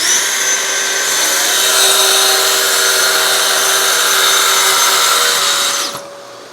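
A power saw cuts a steady pass through a bathroom vanity panel at 3/4 inch depth, a loud continuous whine and rasp of blade in wood for about six seconds before spinning down.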